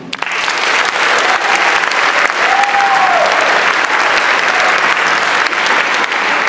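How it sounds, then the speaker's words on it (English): A theater audience gives sustained, loud applause for two school jazz bands at the Stadium Theater, a dense steady wash of clapping with a faint whistle-like tone partway through. "we've got a great big round of applause for the two bands that have already performed"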